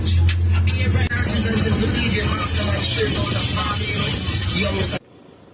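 A loud, steady roar of road and engine noise fills a moving minibus, with faint voices in the background, before it abruptly drops to near quiet at the very end.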